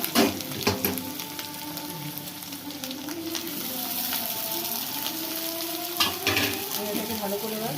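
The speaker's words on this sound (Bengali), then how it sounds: "এটাকে ভালো করে এবার নাড়াচাড়া করে নেবো।" Chow mein noodles with egg and vegetables are stirred and fried in a hot pan, giving a busy crackling sizzle with repeated scraping strokes and occasional metallic knocks.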